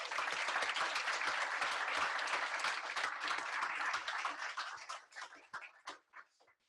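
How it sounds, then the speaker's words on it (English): Audience applause at a Paris API fireside chat, a full, sustained burst of clapping that thins out into scattered claps before stopping. "So I think we can first give a big round of applause to Romain."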